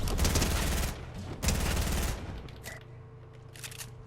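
Rapid gunfire bursts in Fortnite on an aim training map with bouncing targets, loud, close bursts of automatic shots separated by short pauses, trailing into quieter single shots.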